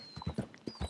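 Horse hooves clip-clop on the ground in Red Dead Redemption 2, with several distinct, fairly close hoof falls in an uneven walking rhythm and faint game ambience behind them.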